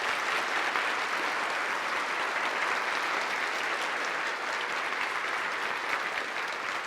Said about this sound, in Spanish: ¿Qué tal si le damos un aplauso al doctor?